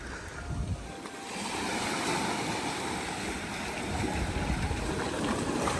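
Low-tide sea at Il Mare beach, a steady close wash of water with wind rumble on the microphone, continuous and fairly even, no voices.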